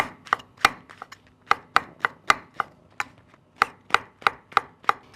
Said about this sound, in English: And then roughly chop these mushrooms.